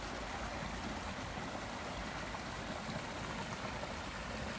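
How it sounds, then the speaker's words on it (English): Water runs and tumbles over rocks at a nature preserve spring, a steady, dense rushing wash that fills the clip with no pauses and no voices. "there's nothing more soothing than the sound of water running and falling over cliffs and rocks and hills"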